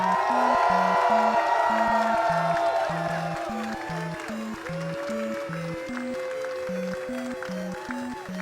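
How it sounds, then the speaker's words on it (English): A crowd cheers and applauds for a player at the Tetris World Championship, loudest at the start and then settling into a softer, continuing roar, while steady, rhythmic game tones repeat throughout. "I also want to hear everybody a loud cheer for Blue Scuti!"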